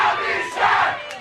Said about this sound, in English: they're chanting Pat louder than they were chanting Bobby Shaft